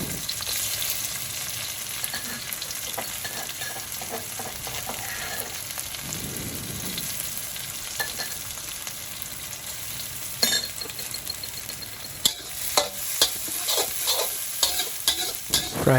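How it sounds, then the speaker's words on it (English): Chili and garlic fry in oil in a pan while being stirred, for a Thai dish of brinjal with basil and minced pork. A steady close sizzle runs throughout, with scraping stirs and sharper utensil clinks toward the end. "put your chili and garlic, and you mix it well"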